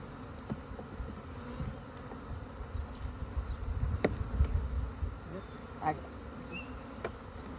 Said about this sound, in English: there's a bee trying to go in my suit